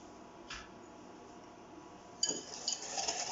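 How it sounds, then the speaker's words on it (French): A whisk or spoon clinks against a bowl as hot milk and egg yolks are mixed for a banana crème brûlée. One light knock comes first, then a quick run of close tapping and scraping. "Et vous mélangez tout ça."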